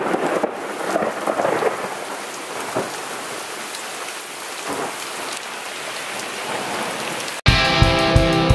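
Steady heavy rain pours down on a stormy morning, a dense hiss broken by a few low thunder rumbles, before the sound cuts off abruptly near the end.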